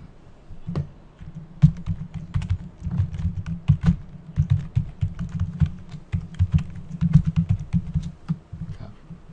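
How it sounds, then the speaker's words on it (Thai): A message is tapped out on a keyboard in quick, irregular clusters of close, light clicks with brief pauses between bursts, and nobody speaks. "จากนั้นจะพิมพ์ข้อความเพิ่มก็ได้นะครับ"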